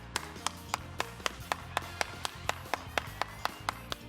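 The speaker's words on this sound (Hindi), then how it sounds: "इनके लिए एक दफा तालियां हो जाए" On a studio talk show, a slow, regular series of single sharp claps, about four per second, sounding close and distinct over a low musical bed instead of a crowd's full applause.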